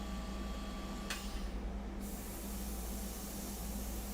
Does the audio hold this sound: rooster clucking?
no